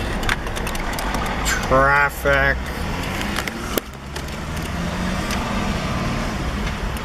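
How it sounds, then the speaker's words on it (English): Road traffic on the Pacific Coast Highway near Laguna Beach, heard from inside a moving car as a steady engine and road rumble with passing vehicles; a person speaks briefly over it. "Notice all this traffic."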